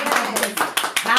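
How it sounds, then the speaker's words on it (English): Hand clapping during a street talk show, a few sharp claps in quick succession mixed in with talking. "So we want to hand clap for Centoya for getting great clemency."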